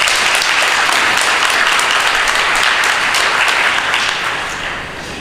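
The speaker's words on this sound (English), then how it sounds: "Let's give them a big round of applause" A crowd at a reunion gathering claps loudly in dense, sustained applause that fades slightly toward the end.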